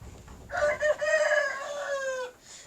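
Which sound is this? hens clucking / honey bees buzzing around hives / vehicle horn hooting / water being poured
hens clucking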